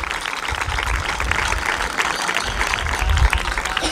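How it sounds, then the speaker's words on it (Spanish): An audience at a children's folk festival day in Santander, Cantabria, applauds in a steady, dense wash of clapping that holds for several seconds, with crowd noise underneath and no clear speech. "pido, por favor, un fuerte aplauso"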